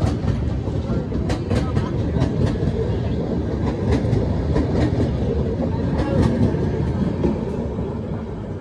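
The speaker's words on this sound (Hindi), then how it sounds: "सामने से एक ट्रेन आ रही है" Train pulling into Meerut City Junction railway station, a steady loud rumble of wheels with clickety-clack rhythm and sharp metallic clanks from the rails, continuous and close throughout.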